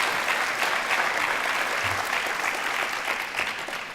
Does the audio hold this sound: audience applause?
yes